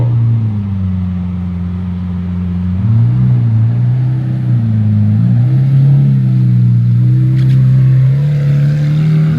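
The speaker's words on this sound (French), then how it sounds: "c'est une Ultimae. Super rare. Là, l'échappement, il est pas du tout d'origine, je pense." A Lamborghini Aventador Ultimae with an aftermarket exhaust idles and rumbles nearby on a Monaco street, with a deep, loud, steady engine drone that swells slightly in pitch midway.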